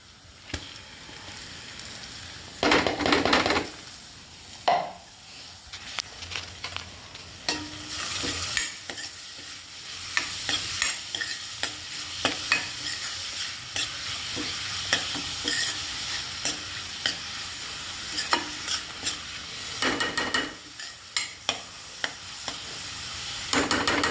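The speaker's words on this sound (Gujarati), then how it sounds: "હવે આપણે ડુંગળી નાખી દઈશું." Chopped onions sizzle in hot oil in a pan for a spinach paneer gravy, with a continuous frying hiss broken by repeated scraping stirs of a spoon. The sizzle swells louder at several points.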